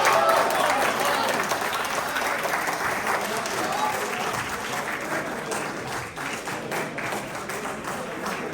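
Sustained audience applause at an Urdu mushaira poetry recital, dense steady clapping from a large crowd holding even for several seconds with no voice over it.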